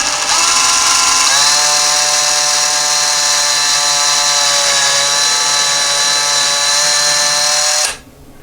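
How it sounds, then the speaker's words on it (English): A power drill fitted with a 9/32 bit bores a hole through drywall to install a toilet paper holder. It spins up with a steady, close, high whine that runs continuously for several seconds, then abruptly stops. "drill the larger hole now"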